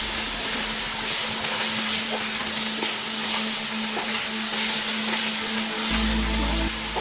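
Marinated chicken sizzles and fries steadily in a pan while being cooked into a double masala biryani, a continuous close crackle with occasional stirring scrapes and no voices.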